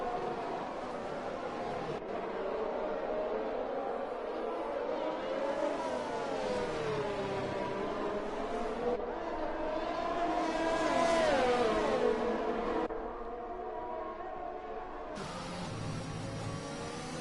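Ferrari race car engine roaring steadily during a URC touring car race in Belgium, sustained and fairly loud with pitch sweeps as it accelerates and shifts, blending with other cars on track.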